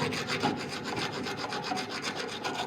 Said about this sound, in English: As you see, I grind that paint off.